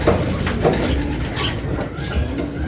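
Racing pigeons coo softly and steadily amid a busy bird-filled background, with repeated low murmuring calls throughout.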